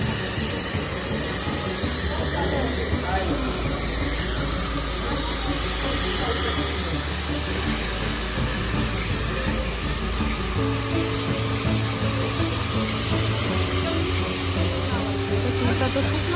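A hair dryer blows on hair after a haircut, a steady loud hiss of rushing air that shifts pitch midway, with faint talk underneath.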